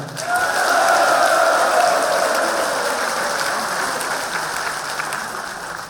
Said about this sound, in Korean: 다시 한번 큰 박수가 필요합니다